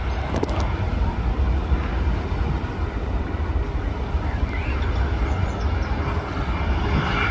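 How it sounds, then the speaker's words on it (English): Airliners taxi at Manchester Airport, with Ryanair, EasyJet and Turkish jets on the move. Their engines make a steady, loud, broad roar that holds without a break and has no talk over it. "Ryanair's on its taxi out. There's an EasyJet on the taxi out, and the Turkish is on the move as well"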